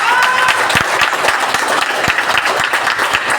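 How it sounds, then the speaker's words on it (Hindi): An audience at a Safe Shop business plan presentation claps together, a loud dense applause with some distinct sharper claps standing out, continuous throughout and free of talk. "तो यार दुबई के नाम का एक ताली बजता है।"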